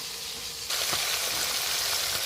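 Fish frying in a pan gives a sudden burst of hissing sizzle that then holds steady and close, with faint crackles and pops scattered through it.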